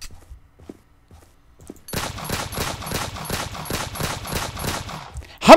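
Rapid bursts of automatic gunfire from a video game crack out in a steady rattling run after a quiet start, ending in one louder hit.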